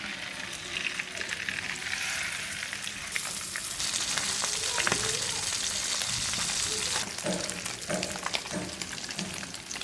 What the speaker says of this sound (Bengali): তেলটা গরম হয়ে গেছে মাছগুলো দিয়ে দিব